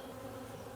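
Honey bees hum steadily at a stacked beehive during a strong honey flow, a continuous close buzzing drone with no break.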